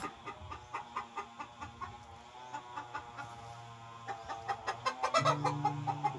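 Several chickens on a farm cluck in quick repeated bursts, close by and steady, growing a little busier and louder toward the end.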